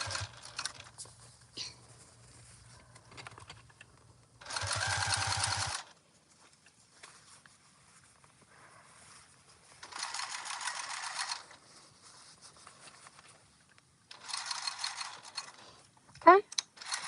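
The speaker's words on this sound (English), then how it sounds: "we are going to sew about 1 inch past that initial" A sewing machine stitches a seam on a turtle tote bag, running in three short bursts of about a second each between quieter handling sounds; the stitching is close and moderately loud.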